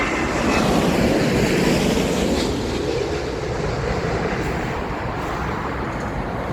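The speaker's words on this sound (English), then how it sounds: "Shall we say it again while the plane comes over?" A plane passes low over an area near Heathrow Airport, a loud, steady broadband roar that holds throughout, close and unbroken.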